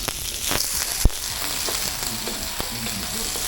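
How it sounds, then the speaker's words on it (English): Onion, pimento, hot pepper and ginger fry in a pan for fried rice, producing a continuous close sizzle with one sharp knock partway through. "Let that saute there."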